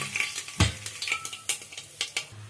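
Mustard seeds and green chillies sizzle in hot oil, crisp crackling with sharp pops and a spoon clinking against the pan, close up and with no voices.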